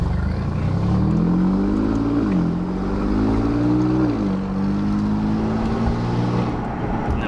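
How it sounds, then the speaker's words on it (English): An Alfa Romeo Giulia Quadrifoglio fitted with downpipes revs in neutral, the loud, close engine note climbing and falling twice in quick succession over a constant deep drone. "So now that we're in neutral, if I just rev, now it sounds pretty good."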